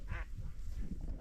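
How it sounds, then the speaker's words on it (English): A wood duck calls near hunting decoys in a Minnesota field, a short squeaky cry heard once at moderate distance over wind and low rumble. "That was a wood duck."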